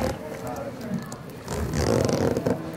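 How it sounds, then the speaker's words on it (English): A heavy-duty zipper is drawn around a medical garment in a clinic setting, a scraping ripple that grows louder and denser in the second half, with people talking over it. "So then it zips all the way around."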